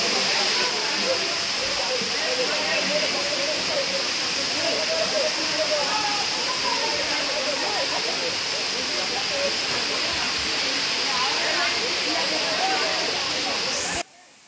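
Water pours down a waterfall with a reduced flow after little rain, producing a continuous loud rushing hiss that stays steady and close throughout before dropping off at the very end.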